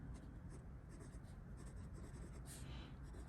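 Fine-nib Platinum Plaisir fountain pen scratching steadily across paper, a soft continuous near writing texture with faint strokes, alone without talk.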